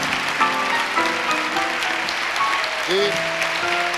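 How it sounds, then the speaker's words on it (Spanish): A studio audience on a Spanish television talk show about UFOs applauds the guests, an even wash of clapping beneath a host's voice and background music tones. "Un aplauso."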